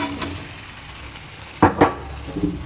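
Cut potato pieces tumble into a pan of frying home-style chicken, giving two sharp sizzling bursts over a steady low fry, followed by softer stirring scrapes.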